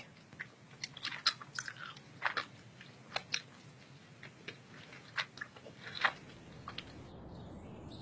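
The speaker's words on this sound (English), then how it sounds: "Today, I will be doing the most requested video, and that is gum chewing." Gum being chewed close to the microphone in an ASMR setting, with soft wet clicks and crunchy bites repeating irregularly over a quiet hiss, each one brief and crisp with no talking.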